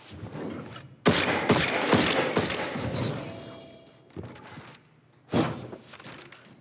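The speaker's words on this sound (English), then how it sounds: "Dude, I love this hand cannon." A hand cannon fires in a first-person shooter video game, heavy shots in a rapid burst, followed by a lone shot and then another louder shot. Each blast rings sharply and then decays.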